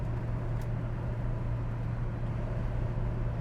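Inside a 1969 Mercury Cougar on the move, a steady low engine and road drone fills the cabin with no talking.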